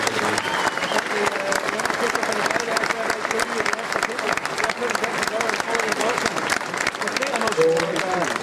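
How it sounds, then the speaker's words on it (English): Audience applauding at a boxing press conference in Ireland for a boxing rematch, sustained crowd clapping with some cheering, with voices mixed in throughout. "please give yourselves a fantastic round of applause"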